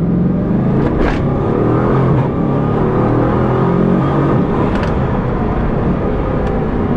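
A Bugatti Chiron, a four-wheel-drive hypercar, accelerating hard, giving a loud continuous engine roar with deep rumble and rising whir heard from inside the car, with no talking.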